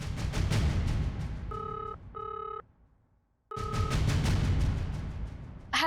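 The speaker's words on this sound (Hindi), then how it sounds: "मैंने श्वेता को फोन लगाया।" Over a busy, noisy background, a telephone call rings out as two short electronic tone bursts, followed by a brief quiet gap and then a further ring tone as the noise returns.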